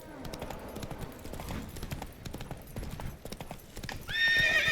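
Roach the horse gallops in The Witcher 3, rhythmic hoofbeats pounding close, then ending in a loud whinny over the game's ambient sound.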